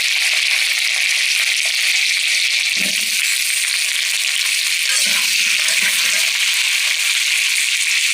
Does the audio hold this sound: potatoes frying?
yes